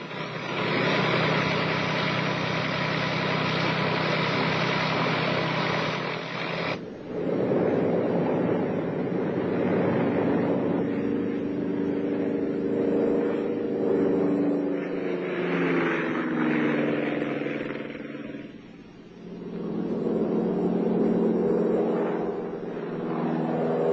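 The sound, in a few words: aircraft engine during takeoff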